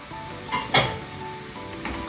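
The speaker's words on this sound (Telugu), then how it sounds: "ఇప్పుడు ముక్కను నలగకోకుండా కొంచెం సేపు తిప్పుదామండి" Boiled potato pieces frying in a pan for puri curry, stirred with a spoon over a steady sizzle, with a couple of close scrapes and clinks against the pan.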